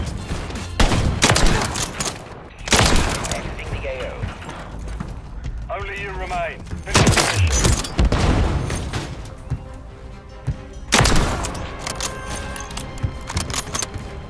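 Bursts of rapid gunfire from a weapon in a competitive first-person shooter match, sharp repeated shots in several loud clusters with game effects between them.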